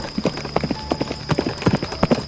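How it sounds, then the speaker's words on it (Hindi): A horse's hooves clip-clop in a steady trotting rhythm as a rider leaves in a cartoon, clear, close and continuous over a faint high-pitched tone. "अपने घोड़े पर बैठकर वहाँ से निकल"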